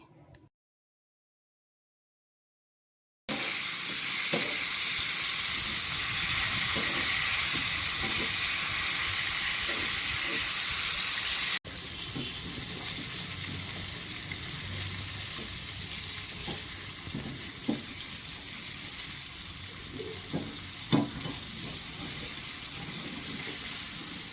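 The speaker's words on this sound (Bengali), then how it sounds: "মাংসর পিসগুলোকে ভালো করে কোটিং করে নিব তারপরে ডুবো তেলে ভেজে নিব" Coated chicken pieces deep-fry in a pan of oil at home, giving a loud, steady sizzle that runs for about twenty seconds after a silent start, with a few faint clinks.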